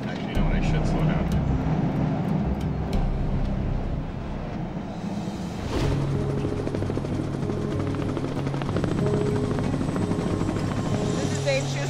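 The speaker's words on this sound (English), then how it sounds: "This is Dave Schuessler's chopper" A drilling company's helicopter roars nearby with a steady rotor thrum and a high engine whine that swells briefly midway. Voices can be heard faintly beneath the noise.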